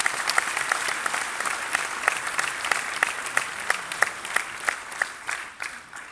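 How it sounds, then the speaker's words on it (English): Graduation-day audience in a medical college hall applauding teachers and administrators, a dense, steady wash of many hands clapping, loud and close, sustained for several seconds before tapering off at the end, with no voices over it. "Let's give them a hand."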